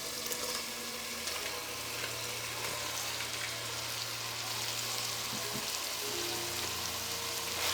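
Boiled beef tripe frying in spiced oil for vuri bhuna, a steady, faint hiss and crackle of sizzling oil that continues throughout, with a low hum underneath and a few soft stir-like bumps.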